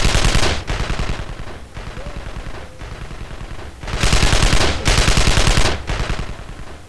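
Rapid bursts of automatic gunfire in the Evil Genius video game, loud sustained volleys of machine-gun fire that swell, ease off and surge again without pause.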